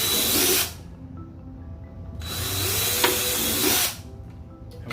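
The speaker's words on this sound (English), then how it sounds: "So now I'll drill these two" A power drill boring holes during a boat tackle upgrade, heard in two loud, steady bursts of whirring with quieter pauses between them, close to the microphone and without talk.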